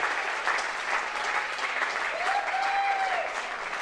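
Steady applause and cheering from the crowd at a NEAFL Australian football preliminary final between UWS Giants and Aspley, greeting a goal; broad, sustained clapping with a faint whistle rising through it near the end.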